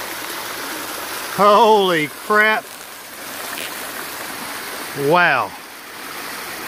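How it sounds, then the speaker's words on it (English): Water pours down backyard pond waterfalls fed by an upgraded pump, a constant rushing wash close by, while a man exclaims in surprise over it twice. "show all of you how much flow is coming down these waterfalls out of this upgraded pump"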